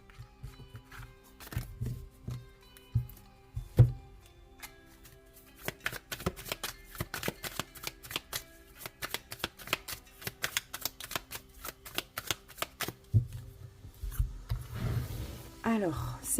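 Tarot cards are shuffled and laid out two per month, giving a long run of rapid, close papery riffles and slaps with brief pauses between them, while a voice speaks intermittently.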